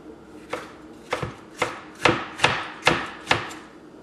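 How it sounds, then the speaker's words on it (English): A knife julienning bell peppers on a cutting board, for Texas-style turkey chili, gives seven sharp, evenly spaced chops close by, each a crisp thud against the board with no talk. "So I'm just making a nice little julienne of my peppers."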